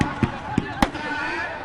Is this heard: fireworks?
yes